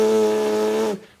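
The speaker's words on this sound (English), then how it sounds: "We call that buzzing your lips." Buzzing lips held together with air blown through them, the way a trumpet player warms up without the mouthpiece: one steady, loud buzz about a second long with a fairly constant pitch, cut off abruptly, no talk.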